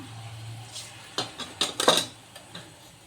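A few sharp metallic clinks and knocks of a spoon against a pan as mustard seeds go into oil for a Karnataka gooseberry chitranna (rice) dish, scattered over about two seconds in a quiet kitchen with no one speaking.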